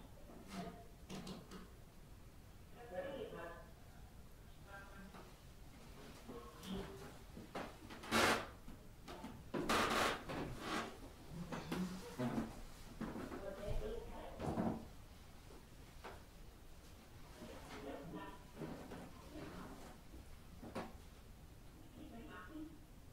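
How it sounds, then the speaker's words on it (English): Sharp knocks sound during a paranormal investigation at Fort Edmonton Park, irregular thuds and raps spread over some twenty seconds, some loud and close, others faint, with people talking quietly between them. "You hear them knocking."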